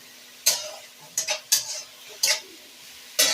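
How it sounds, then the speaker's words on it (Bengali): Onion, green chilies and tomato frying in a pan for a light chicken curry, heard as a faint sizzle under a handful of sharp scraping strokes of a spoon against the pan, close and alone. "তো আমি পেঁয়াজটাকে ভালো করে একটু কষিয়ে নেব।"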